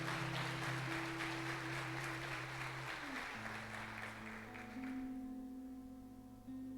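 Applause from a church congregation rises over sustained organ or keyboard chords, the clapping fading out midway while the held musical tones continue alone.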